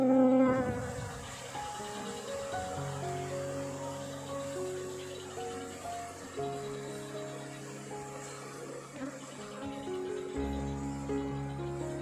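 Giant honey bees swarm with a steady droning buzz during a colony transfer by hand, the hum continuous and fairly close throughout, with scattered tonal sounds layered over it.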